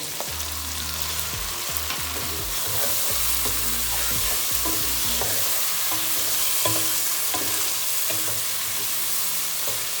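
Chicken with garam masala being stir-fried for yakhni pulao, a loud continuous sizzle with repeated scraping stirs of a spoon in the pot, close and steady, without voices.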